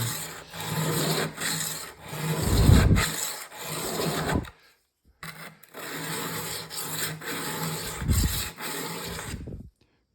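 Steel blade drawn across a sharpening stone in steady rhythmic rasping strokes, two close runs of scraping separated by a brief pause, no talk.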